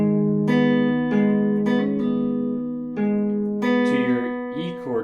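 A slow guitar line of sustained plucked notes, one after another with pauses between, ringing out clearly with no talking.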